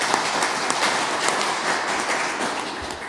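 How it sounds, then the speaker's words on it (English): An audience at a Whalers hockey press conference claps in a steady, dense patter that stays even throughout. "Is that because I'm leaving you're clapping?"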